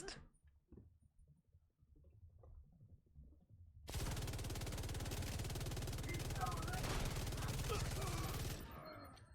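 Rapid automatic gunfire in The Division 2, a long, loud, continuous burst of shots lasting several seconds after a quiet start with faint game sounds, then cutting off abruptly.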